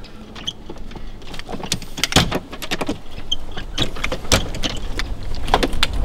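The telescopic ladder of an iKamper Skycamp 2.0 roof tent is collapsed rung by rung, giving a run of sharp metallic clicks and clacks with rattling scrapes in between, close and loud, with no talk.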